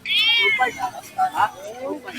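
Siamese cat at a market meowing close up, a long rising and falling meow followed by several shorter cries over about two seconds.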